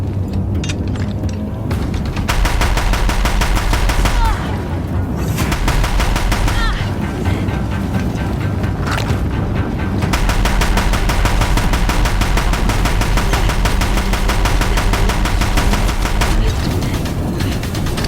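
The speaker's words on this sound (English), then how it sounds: "If the Deathbringers keep firing, this bridge will go." Deathbringer machine guns fire in Horizon Zero Dawn in loud, sustained bursts of rapid automatic gunfire. The bursts break off briefly a few times before resuming, with heavy impacts and rumbling underneath.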